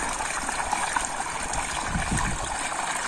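Water poured and splashing for washing feet in a tub outdoors, a continuous loud trickling and gushing stream with no speech.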